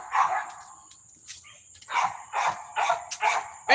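Several dogs bark in short, irregular bursts nearby, yips and barks overlapping toward the end.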